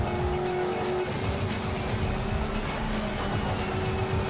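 A racing car overtaking in a MotorStorm video game race, its engine roaring loud and continuous with a steady high-revving drone, constant and close throughout.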